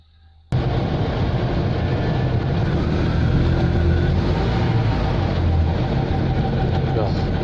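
A small Invacar three-wheeled invalid carriage runs loud and steady on the road after a sudden start, its engine droning continuously with a rough low rumble as it slips out of gear.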